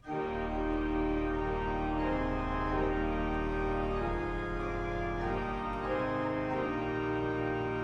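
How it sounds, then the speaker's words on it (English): A 1930 Skinner church pipe organ's 16-foot trumpet stop holds a sustained, reedy chord with a brassy buzz, changing notes slowly and filling the space at a steady, moderate volume. "Also add that trumpet at 16 foot, which sounds like this."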